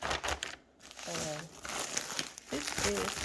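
Backing fabric from a Stonehenge Robin Egg quilting collection crinkles and rustles as it is handled up close, a soft crumpling texture running under a person's talking throughout.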